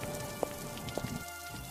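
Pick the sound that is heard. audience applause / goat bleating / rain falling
rain falling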